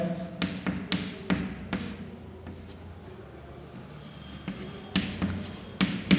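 Pen writing an address by hand on paper in a Hindi letter-writing lesson, with scattered taps and scratchy strokes at close range, quiet pauses between bursts.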